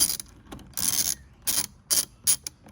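Ratchet with an 8mm socket working bolts on a Jeep 4.0L ignition rail, giving short bursts of crisp clicking in a stop-start rhythm, close and clear with no talk.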